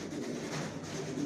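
Big, young racer pigeon chicks cooing softly, a faint, low, continuous murmur close by with no talking.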